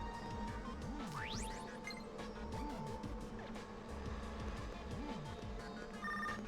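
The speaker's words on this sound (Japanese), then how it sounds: "ちょっと待って、舞子さんから着信だ。" An incoming-call phone ringtone from the video game Tokyo Mirage Sessions #FE rings in a repeating pattern of short tonal bursts, alongside game music and effects, with no talking.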